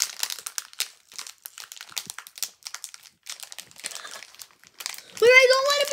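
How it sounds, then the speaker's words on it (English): A plastic bag from a giant mystery box crinkles close up in quick, uneven bursts, then a voice speaks loudly near the end. "Here's some bag ASMR."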